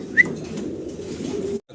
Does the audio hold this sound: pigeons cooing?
yes